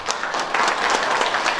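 An audience at a labor-rights forum on regional delivery riders breaks into a short burst of dense, steady applause, filling the room evenly for under two seconds.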